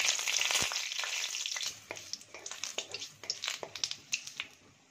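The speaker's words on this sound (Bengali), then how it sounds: "শুকনো লঙ্কা ফোড়ন দিলাম, তেজপাতা" Dried red chillies and bay leaves hit hot mustard oil in a pan, crackling with a sharp hiss that fades into scattered pops and small spits; close up, with no talking.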